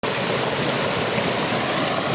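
Mountain stream swollen after heavy rain in a forest, a loud continuous broadband rush of water, steady and close with no breaks.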